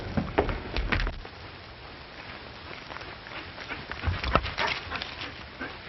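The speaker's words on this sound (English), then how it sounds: "Oh, so this is your friend's dog." A dog in a 1937 Western film scene, heard as a few scattered faint yips and snuffling movements over quiet room noise, with no talking.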